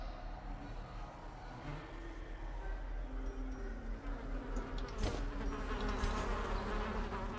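Insects buzz steadily inside a twisted hive in the video game Darkest Dungeon, a dense droning swarm with low rumbling ambience and a couple of brief louder swells.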